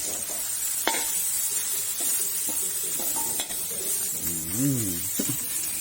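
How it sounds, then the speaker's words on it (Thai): Finely pounded Thai curry paste dry-roasts in hot oil for a northern Thai frog curry, giving a steady sizzle broken by scraping stirs and a few clinks of a utensil against the pan. "ตั้งน้ำมันให้เดือดนะครับ แล้วเขาก็จะใส่ พริกแกง ที่เขาโคกละเอียดไปแล้วนะครับ ลงไปคั่วก่อนเลยนะครับ"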